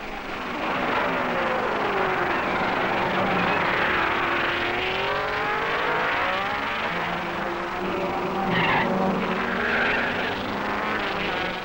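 1961 Formula One race cars at the Monaco Grand Prix, with Moss chasing Ginther, roar continuously, their engine notes rising and falling as they sweep past through the street circuit, loud and layered.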